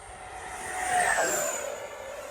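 An FMS Futura V2 80mm EDF RC jet passes in flight. Its thin whine and whoosh swell to a peak near the middle, then ease off slightly. The jet is heard alone at moderate distance with no talk.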